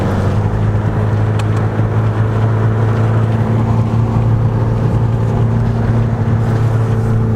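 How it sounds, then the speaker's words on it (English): A car drives through a blizzard with a loud, steady engine drone and continuous road and wind rumble, unbroken for the whole stretch. "We're like driving through a blizzard right now."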